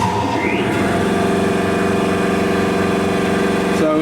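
A 5 hp 240-volt air compressor starting on grid power, its motor spinning up from a short rising whine into a loud, steady, close mechanical drone with a strong harmonic hum, running alone without talk.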